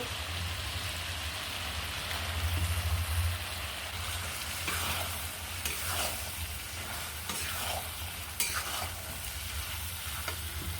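Beef pieces frying in a pot over a clay stove, a steady crackling sizzle with intermittent stirring scrapes and small pops throughout, no voices.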